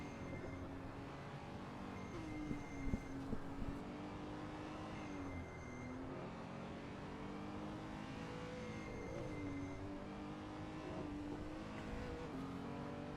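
Mazda MX-5 race cars at the Nürburgring Nordschleife in a racing video game, a steady engine drone with shifting pitch as the cars accelerate and rev, continuous and fairly even throughout.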